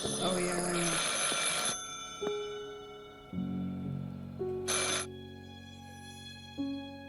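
A telephone rings in the video game Martha Is Dead, a few electronic ring bursts separated by pauses, with sustained tonal chimes and low hums between them, fairly clear and loud against a quiet background.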